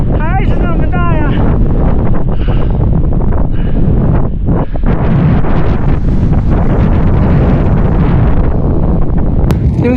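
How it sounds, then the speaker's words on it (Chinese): Strong gale roaring into a microphone on a remote high-altitude highway through desolate highlands during a long-distance bicycle ride, loud and continuous buffeting rumble throughout, with a voice faintly speaking under it. "这阵风还是那么大呀"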